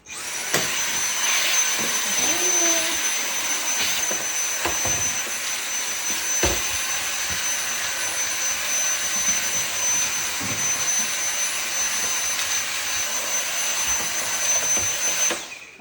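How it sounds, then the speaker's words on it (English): A vacuum cleaner runs continuously inside an oven during cleaning, a loud steady whining roar with occasional knocks and bumps of the nozzle against the oven interior. "give a quick vacuum in there."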